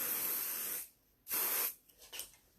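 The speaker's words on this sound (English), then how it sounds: "So I'm going to spray this." A spray bottle mists hair in two long hissing bursts, the second slightly shorter, followed by a few faint, brief spritzes, close and with no talking.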